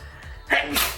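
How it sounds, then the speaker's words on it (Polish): A single sharp human sneeze, close and loud, with a short intake followed by a bright burst of air at the end. "musiałam sobie właśnie kichnąć"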